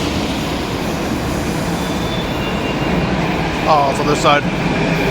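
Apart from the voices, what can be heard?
metro train in an Athens metro station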